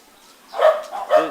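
Dogs barking along a residential street in Mabalacat, Pampanga, Philippines, two short moderately loud barks in quick succession after a quiet start, with a faint voice-like quality mixed in.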